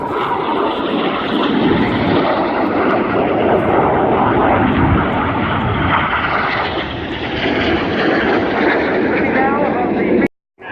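RAF Red Arrows jets roar past in a formation display at RIAT 2015, a loud sustained rushing engine noise that swells and holds with crowd and commentary blended in beneath, then cuts off abruptly near the end.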